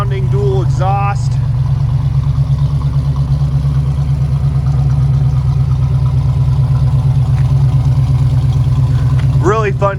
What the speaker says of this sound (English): Great sounding dual exhaust.